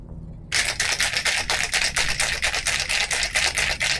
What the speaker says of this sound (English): Give it a good shake.